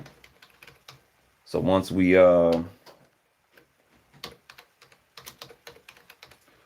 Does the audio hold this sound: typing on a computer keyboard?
yes